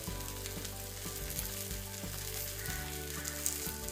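Cumin seeds and a green chili sizzle in hot oil for a cauliflower masala, giving a steady, close frying hiss that carries on evenly without any voices.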